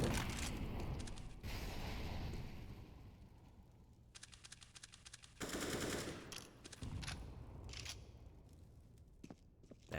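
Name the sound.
gunfire in video game Counter-Strike, Mirage map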